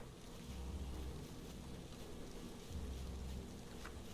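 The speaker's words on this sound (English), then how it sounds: "And it's raining." Steady rain falls in the Valheim video game, a continuous wash of broadband noise with low rumbling swells, heard alone without speech.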